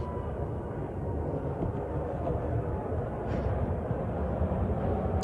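A steady, low, rumbling roar of an airplane flying overhead fills the whole stretch, dull and continuous without any change.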